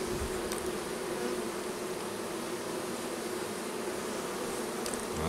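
Honeybees hum in a steady, dense buzz around a small hive, moderately close and continuous, with no talking.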